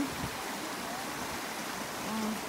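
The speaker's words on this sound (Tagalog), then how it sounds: "Second fall. Yan yung waterfalls niya." Water pours steadily down the second fall of a stream in Sai Kung, Hong Kong, a soft continuous rush with a faint murmur of voices underneath.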